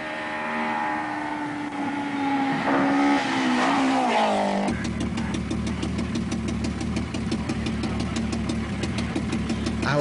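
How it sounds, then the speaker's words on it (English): A Nissan 240 RS Group B rally car on gravel suspension and rough road tyres, flat out on asphalt at the 1985 Acropolis Rally: a loud engine revving and shifting, then a rapid rattling, pulsing drone as it passes close. "the Nissan 240 RSs look extremely twitchy at high speed on the asphalt"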